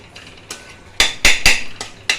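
Semolina is stirred slowly as it fries in a pan, with a spoon scraping and clinking against the metal in several sharp, close strokes and a faint hiss underneath, with no talking.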